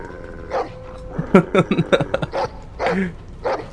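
Dog barking in a Game of Thrones video game, a burst of several sharp, loud barks close by with yips, after a short lead-in of other game sound.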